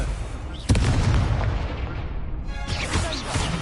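Confringo blasting spell in Hogwarts Legacy, a sharp explosive boom hitting suddenly and then rumbling and fading, followed by a second crackling burst, loud amid ongoing combat effects.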